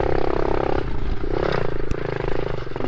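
A mini motorcycle engine runs close by with a steady, raspy buzz that shifts pitch slightly, a sharp click partway through, loud and continuous.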